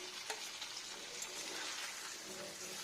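A steady, close sizzle of paneer frying in hot oil, a continuous crackling hiss throughout.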